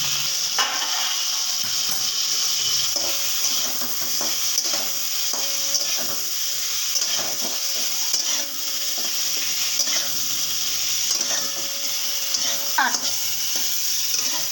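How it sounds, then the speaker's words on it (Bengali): Pointed gourd (potol) pieces, lightly seasoned with turmeric, frying in oil in a pan, with a steady close sizzle and crackle that holds throughout and a few faint clinks along the way. "পটলটা ভাজা হোক"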